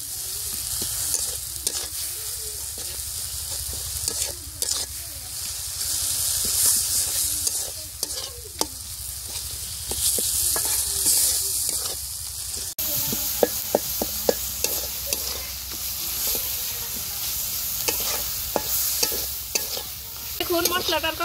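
Spices and tomato are stir-fried in a pan for a chicken and bottle gourd curry, with continuous sizzling and repeated scraping of a spoon against the pan, close and busy, with no talk.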